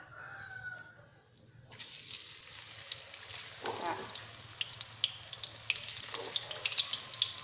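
Oil sizzles and crackles steadily as banana slices fry in a pan for banana chips, the hiss rising after a quiet start with scattered pops.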